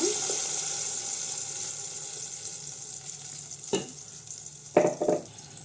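Ground masala paste sizzles and fries steadily in hot oil for an egg curry, a constant close hiss broken by a few sharp clinks and scrapes of stirring near the end.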